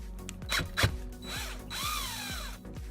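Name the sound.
drilling holes in an X-Wing Jumpmaster 5000 model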